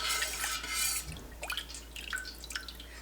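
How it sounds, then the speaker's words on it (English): Gouda cheese curds are stirred in warm whey, giving close, soft liquid swishes and gentle drips in an irregular rhythm. "I'm just gonna stir everything around."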